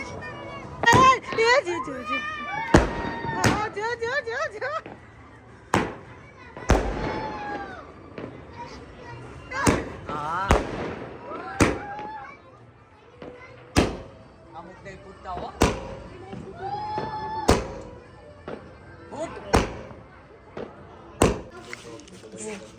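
Sky shot fireworks go off during an Uttarayan celebration as a series of sharp cracks and pops spread through the scene, with excited children's voices and chatter running underneath between bursts.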